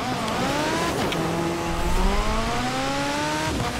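A Ferrari F40 Competizione engine in a racing video game revs and shifts through gears, its rising and falling harmonic whine loud and continuous over road noise.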